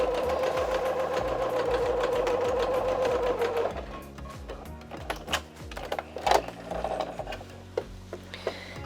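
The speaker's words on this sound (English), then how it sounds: "I'm just going to pop it under the foot and do a straight stitch all the way to the end" A sewing machine runs a straight stitch along the edge of a dress, humming in a fast, steady mechanical whir for several seconds, then stops and gives way to short bursts and clicks of the mechanism.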